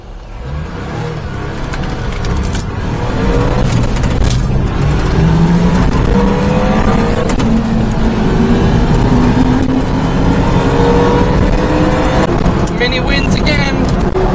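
A Daihatsu Atrai mini truck drives along a road, its small engine droning steadily and rising in pitch through the gears, loud and continuous inside the cab with road noise throughout.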